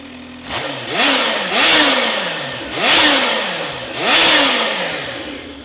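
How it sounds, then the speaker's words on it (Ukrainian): A supercharged Kawasaki ZH2 motorcycle engine, warmed up, revs up and down in four rising bursts over a steady idle, loud and close with a whining compressor pitch sweep. "Зараз дамо газку трошки. Послухайте, як працює компресор."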